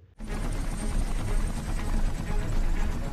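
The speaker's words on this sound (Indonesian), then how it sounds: "Keesokan harinya helikopter penyelamat pun tiba." A rescue helicopter arrives in a film scene, its rotor and engine roar starting abruptly and holding loud and steady throughout.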